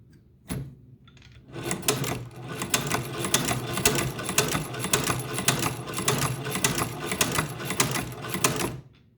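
A leather sewing machine of the Chinese shoe-patcher type stitches a patch onto a motorcycle vest, running in a steady rapid mechanical chatter for about eight seconds after a brief click, close and loud with no talking.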